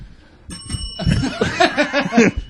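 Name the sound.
bell ringing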